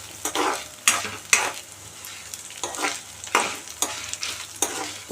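Dried red chillies and ginger fry in hot oil for a ginger chutney, with a steady sizzle and irregular scraping bursts as a spoon stirs the pan, close and clear without speech.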